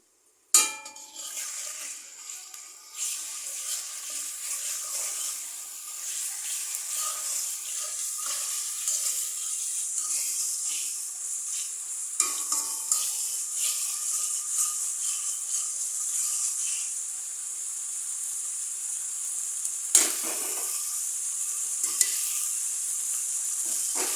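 Onion, ginger-cumin paste, garlic paste and salt fry in hot oil, giving a steady, bright sizzle that starts abruptly and hisses on continuously, with occasional stirring scrapes.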